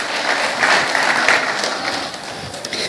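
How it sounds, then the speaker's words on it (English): Applause from an audience at a primary school quiz competition, cheering the contestants: a steady, dense clapping that swells slightly midway and carries on for about three seconds with no talk over it. "Give them all a round of applause for their hard work in the preliminary rounds."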